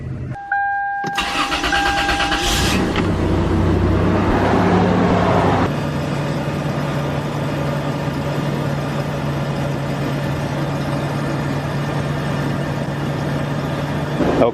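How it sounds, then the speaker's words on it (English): A 2000 Toyota 4Runner, just fitted with a new fuel pump, cranks briefly and then fires up loudly nearby. It settles into a steady, even idle that continues alone for the rest of the stretch. "Truck's running perfectly fine."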